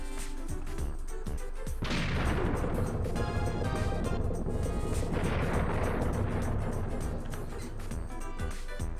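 Cartoonish bomb blasts in Bomberman 64 knock down a wall, a dense run of booming explosions over busy game music, with two big bursts layered on a loud, continuous wash.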